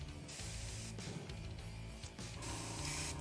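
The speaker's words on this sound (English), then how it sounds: "Now it's really spraying." Airbrush spraying paint onto a Kingdom Death miniature with its valve opened wider, a steady continuous hiss that holds close and fairly loud throughout, with a brief dip in intensity partway.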